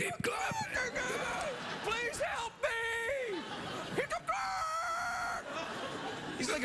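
A man imitating a rooster crowing on a late-night talk show, repeated strained cock-a-doodle-doo calls rising and falling over a few seconds, with studio talk and audience noise around them.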